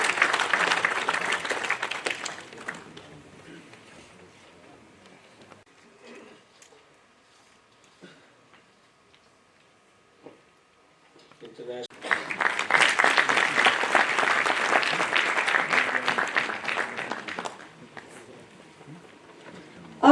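An audience at a press conference with Haryana Chief Minister Manohar Lal claps in two loud bursts of dense applause, one at the start and a longer one later. A quiet stretch with faint rustles and knocks lies between them.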